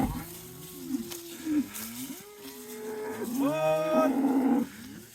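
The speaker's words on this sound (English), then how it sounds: "there's the lead cow" Hereford cattle being moved on a lease block moo in long, drawn-out calls, several overlapping close by, with a faint voice underneath.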